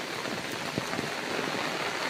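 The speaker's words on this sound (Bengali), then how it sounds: "কি জোরে বৃষ্টি আসলো," A steady wash of heavy rain falls outdoors in the countryside, a close, even hiss of drops lasting a couple of seconds with no voices.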